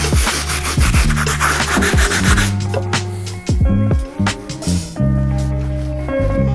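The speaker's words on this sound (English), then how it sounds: "skip to our stiff bristle so we can clean up these dirty soles" A stiff bristle brush scrubs the dirty soles of Air Jordan Bred 4 sneakers in loud, close, rapid strokes, with a few pauses, over background music.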